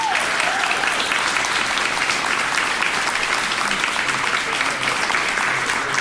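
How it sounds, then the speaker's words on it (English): Steady, full audience applause at a city council candidate forum, many hands clapping continuously throughout at a loud, even level with no voices standing out. "Audience, can we give our candidate one more round of applause?"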